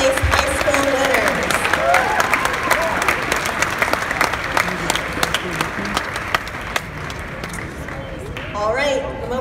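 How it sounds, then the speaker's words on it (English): A crowd applauds second-place high school winners at a regional science and engineering fair awards ceremony, loud mixed clapping and cheering throughout, with some chatter and shouts underneath that fade near the end. "Let's give a huge round of applause to all of our second place high school winners."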